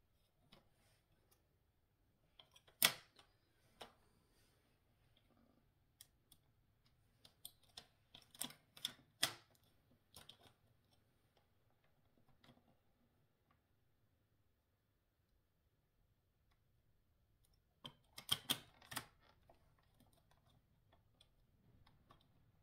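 Paper card being cut to make a simple folded card, heard as sparse, faint snips and clicks in short bursts with long quiet stretches between them.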